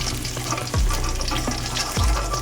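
Katla fish sizzle steadily in hot oil, with two quick scraping swipes of a spatula lifting pieces out over the constant crackle.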